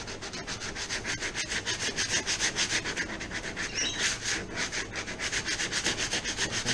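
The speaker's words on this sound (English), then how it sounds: "I'm just going to give it a light sand to try and take some of those sharp edges off" A worn poly plastic kayak keel is lightly sanded by hand, with close, rhythmic rubbing strokes repeating at a steady pace and no talk.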